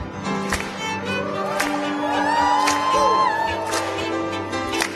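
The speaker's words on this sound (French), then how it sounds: "Poussons des cris de joie" A congregation at an Easter church service shouts and whoops with joy, loud overlapping voices rising and falling over a steady musical backdrop, with sharp accented hits at intervals.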